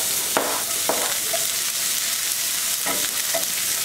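Onion sautéing in a hot pan, a constant loud sizzle broken by a few sharp scrapes and clinks of a utensil stirring.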